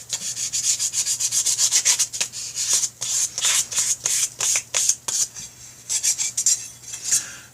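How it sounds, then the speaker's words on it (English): Fine 1000-grit sandpaper rubbed back and forth over the edges of a motorcycle oil tank top cover, a close, steady run of rapid scratchy strokes with brief pauses between bursts, no talking. "we're going to go over these edges with some 1000 grit"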